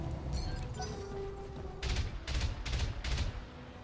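A light sniper turret or Jaeger mech firing in the BattleTech video game, a run of four heavy, evenly spaced shots in the second half after a low rumbling stretch.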